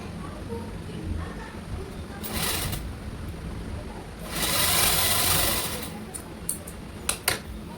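A sewing machine stitches a red lined blouse in steady runs, with a louder, faster burst midway and a few sharp clicks near the end, under a low background hum.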